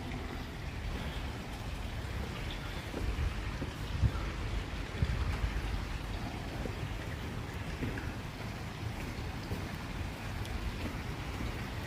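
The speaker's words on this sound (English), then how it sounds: "And this has the sound of draining because it always lets a little bit through to let the pressure equalise" Water pours steadily through a canal lock as it drains, making a continuous rushing, splashing hiss with a few slightly louder surges. It is close and even throughout.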